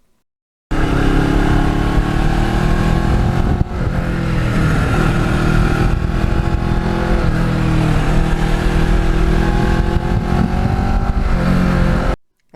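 A Kawasaki Ninja motorcycle rides along a road, its engine droning loud and steady with a brief dip in revs before it pulls on, wind rush mixing in throughout.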